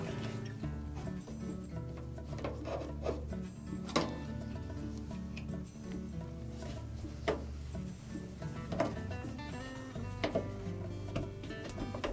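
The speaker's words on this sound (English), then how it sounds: "lift those tabs up just enough to pull the old felt out" Scraping and clicking as old felt seal is pulled off a Whirlpool dryer drum, with irregular ticks and soft tearing sounds close by and no talk.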